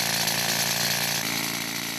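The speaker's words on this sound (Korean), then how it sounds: "측량이 끝나면 특수장비 차감기로 암석에 구멍을 뚫기 시작한다" Special drilling machine boring a narrow hole into hard granite rock at a quarry, a loud continuous rattling, hammering drone held steady and close.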